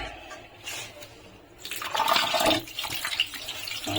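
Clean water poured over fresh chhena held in a thin white cloth to rinse out the vinegar, a soft trickle at first that swells into a steadier splashing stream after a moment, close by with no talking.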